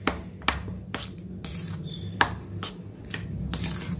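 Spoon clacking and scraping in a pot while homemade Vaseline ingredients are mixed, a series of sharp, close knocks at an uneven rhythm, roughly every half second.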